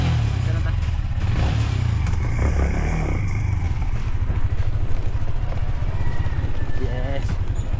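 A motor engine runs steadily and loudly throughout, with road and wind rumble beneath, as if heard from a moving bike; a voice talks over it.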